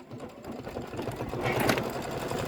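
An embroidery machine stitches an applique in a continuous, rapid mechanical patter, close and moderately loud, growing slightly stronger toward the end, alone without talk.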